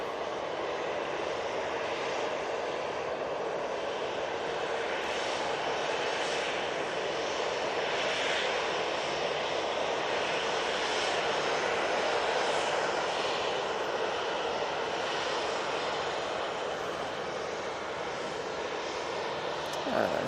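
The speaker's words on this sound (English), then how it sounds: "So we do have British Airways starting its taxi." British Airways airliner starting to taxi at Manchester Airport, a steady loud engine roar that holds for the whole stretch with no gaps.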